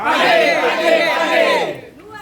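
A crowd of participants at a physical education teaching session in Indonesia shouts a loud unison morning cheer, several voices together in a sustained rally-style call that fades at the end.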